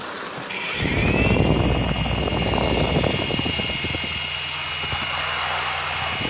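A small drone's motors spin up on takeoff into a steady high-pitched buzzing whine that holds loud and close throughout, with no talking.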